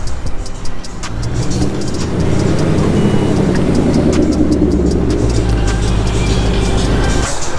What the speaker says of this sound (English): there's a few cars that are already taking off